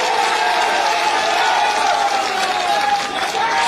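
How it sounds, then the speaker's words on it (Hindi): Large crowd at a Congress party political rally applauding to welcome Kamal Nath, a loud, dense wash of clapping and crowd noise, sustained and even throughout. "जरा कमलनाथ जी के लिए जोरदार तालियों से उनका स्वागत करें।"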